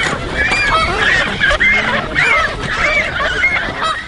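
Canada geese honk repeatedly at a summer banding roundup on park ponds in Lancaster County, Pennsylvania, a dense overlapping chorus of nasal calls close by, with no talk.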